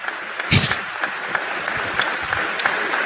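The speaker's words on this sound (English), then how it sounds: "Notice how they clapped." An audience claps in a played-back recording: a sharp burst of applause erupts, then settles into steady, dense clapping that continues to the end.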